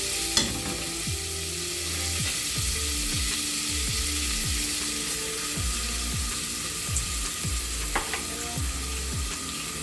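Garlic frying in about 20 to 25 grams of butter with olive oil in a pan, a loud, steady sizzle close by, broken by repeated scraping strokes of a stirring utensil and a few light clicks.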